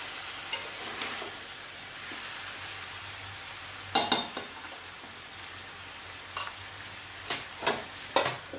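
Mutton and papaya sautéed in a pan make a low, steady sizzle, broken by a few close spatula scrapes and clinks against the pan that come in small bunches near the middle and toward the end.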